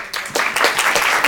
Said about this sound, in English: We're going to take a round of applause.